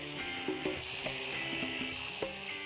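Wire wheel scrubbing a cast iron bench, a steady close metallic whir with rough rasping texture and a few sharper catches as the bristles bite, no talking.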